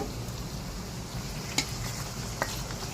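Pork blood stew (dinuguan) with lemongrass being stirred in a pan, a steady close sizzle and frying hiss with soft scraping of the spoon and two brief clinks, no talking.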